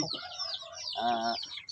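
Native hens cluck and chatter close by, a quick series of short calls with one drawn-out, nasal squawk in the middle.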